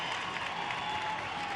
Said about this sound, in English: I think they're applauding Brad Voth coming in and protecting.